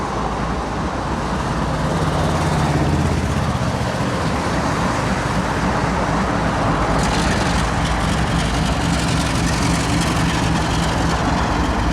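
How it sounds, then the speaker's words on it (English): General Electric diesel locomotives of a train inching forward onto the lead at Avon Yard west of Indianapolis, a steady low engine rumble and broad road-like noise running continuously throughout, with a brighter hiss joining partway. "I love the sound of those General Electric engines."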